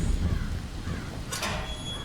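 A crow caws once, a short harsh call against a steady low rumble of rain in a horror video game.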